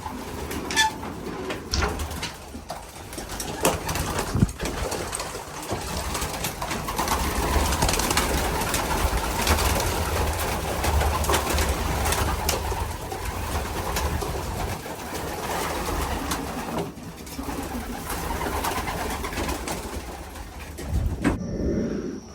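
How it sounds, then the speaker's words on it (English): Pigeons coo steadily inside a loft, a dense, continuous murmur of many birds close by with occasional wing flutters and no talking. "We start letting the birds back in."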